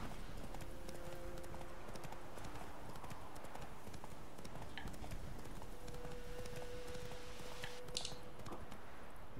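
Hoofbeats of a horse clip-clopping steadily at speed in The Witcher 3 video game, a continuous rhythmic patter close up with faint game ambience and a brief tonal swell late on.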